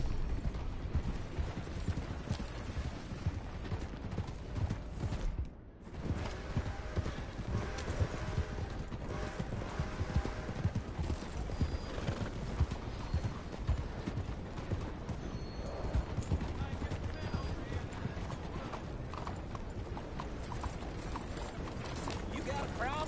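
Horse hooves clip-clop steadily in a video game, with occasional neighs, mechanical clanks and a character's voice over the continuous hoofbeats.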